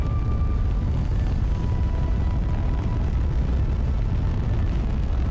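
Rocket engine roaring in Kerbal Space Program 2 during a Delta Thor launch, a steady, dense low rumble that holds loud and unbroken the whole time with no pauses, no talk over it.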